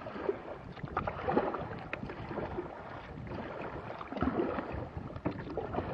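Kayak paddling on open water off Rosyth docks near the Queensferry Crossing, with a fishing rod aboard: soft, irregular splashes and water movement close by, under steady wind noise.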